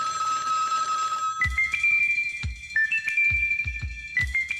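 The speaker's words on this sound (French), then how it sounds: "Le téléphone sonne." A telephone rings with repeated electronic bell tones in short bursts, clear and alone with no voices.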